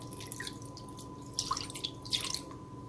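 Water poured over cooked sago pearls in a filter for a mango pearl drink, a faint close-up trickle with soft drips and splashes over a low background hum.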